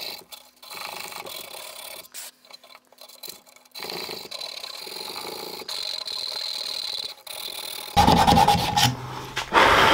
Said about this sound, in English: I used a Dremel with a tungsten carbide burr to rectify the messy cutting